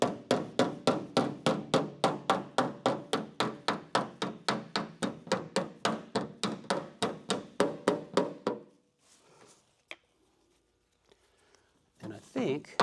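Steady, rapid hammer blows ring out on the body panel of a 1935 Packard as dents are beaten out, about three strikes per second for eight seconds, then near silence with a few faint knocks.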